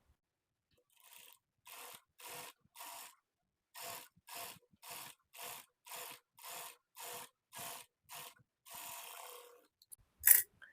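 A sewing machine stitches a folded half-inch edge on a blouse neck strip in about fifteen short, evenly spaced mechanical bursts, close and fairly quiet, ending with a sharp clack.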